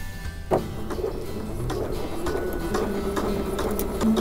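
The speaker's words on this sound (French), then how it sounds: "je relève mon pied presseur et je continue ma couture" A sewing machine stitches a seam on a triangle scarf. It gives a steady, fairly quiet mechanical whir and rapid ticking, with a clunk near the start and a rising hum toward the end.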